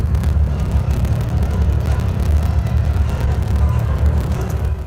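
A deep contrabass effect in a horror-toned music track: a dense, steady low drone that holds at constant loudness throughout, with no talk over it.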